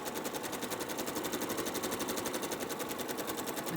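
A sewing machine runs fast and steady while stitching a quilt block, its needle producing a dense, even rapid chatter with no pauses.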